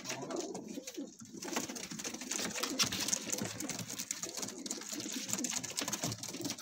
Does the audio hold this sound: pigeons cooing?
yes